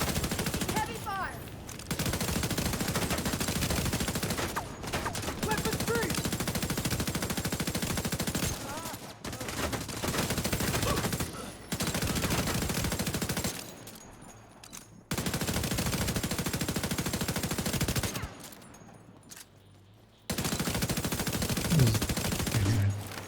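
Sustained heavy machine gun fire in a video game, long dense bursts broken by brief pauses, loud and close, with occasional game sound effects between volleys.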